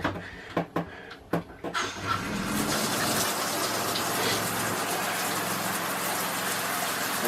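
An RV shower head running hard as it flushes pink antifreeze through the lines during winterizing, a few knocks and clunks first, then a steady loud gushing spray that continues alone.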